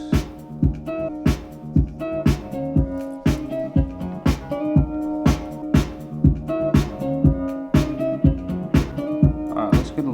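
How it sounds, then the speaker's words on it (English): A music sample plays under a steady kick drum, with a sidechain compressor ducking the sample on each kick hit to give a regular pumping rhythm, clear and close. "audio fed into the compressor to duck the sample when the kick hits."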